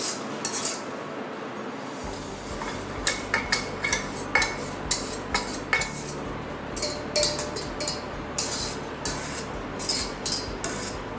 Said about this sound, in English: I'm just going to be using the wire whisk to slowly combine this and just slowly fold it in.